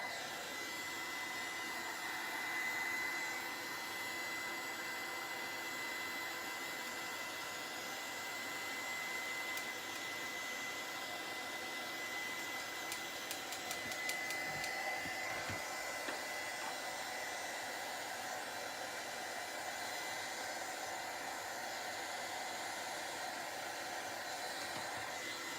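A heat gun blows steadily on drying craft paste, a constant loud airy roar with a faint high whine running unbroken throughout.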